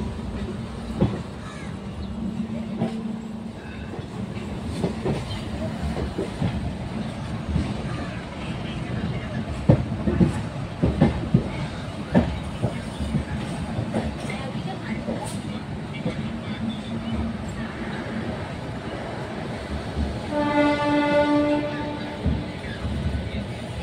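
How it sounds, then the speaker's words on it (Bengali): A Howrah-bound local train passes on the opposite track, heard from aboard another train: a long rattling rumble with sharp wheel clicks, crows cawing nearby and a tonal horn-like note near the end. "অপোজিট সাইড দিয়ে ক্রস করছে একটা হাওড়াগামী লোকাল ট্রেন"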